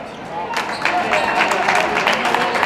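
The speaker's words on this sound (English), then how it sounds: "He gets a nice applause from his bench as he exits the game" Bench players at a boys varsity high school basketball game applaud a player leaving the court, a steady patter of clapping over gym crowd noise and murmuring voices.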